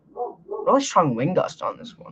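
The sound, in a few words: dog barking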